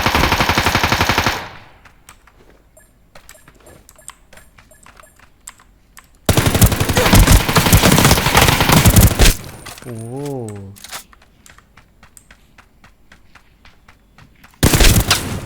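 Automatic gunfire in the shooter Ring of Elysium, with long sustained bursts of rapid shots, loud and close, separated by quieter stretches of ticking keyboard clicks and small game sounds.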